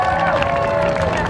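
Crowd at a Blackpool promenade street show calling out and cheering in a short, steady burst of babble and shouts, fairly close and loud throughout.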